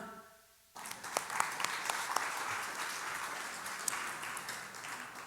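Church congregation bursting into applause after a short voice, dense clapping from many hands filling the room and holding steady to the end.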